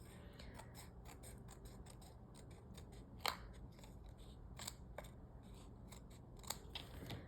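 Scissors snip repeatedly while trimming material, a steady run of quiet, close cuts with a few sharper clips standing out, no voices.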